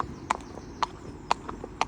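Horse hooves clip-clopping on a main road during a hack, a steady walking rhythm of distinct hoof strikes about half a second apart, at moderate distance over low road rumble.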